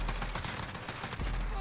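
Rapid automatic fire from the Soul Reaper FAL rifle in Modern Warfare, loud and close, a continuous stream of shots filling the whole short burst.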